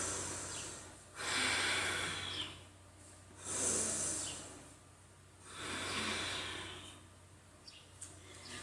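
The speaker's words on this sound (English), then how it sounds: "Beautiful job breathing here." Slow, deep breaths taken during a revolved yoga pose in a class, with about three broad inhale-exhale swells rising and falling over a steady low hum; close and fairly soft, no talking.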